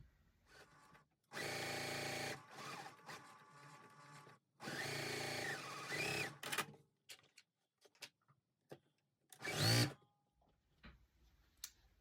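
A home sewing machine stitches a quilt block for a checkerboard basket pattern in two sustained bursts of whirring, then a brief third run after quieter handling noises, with no talking.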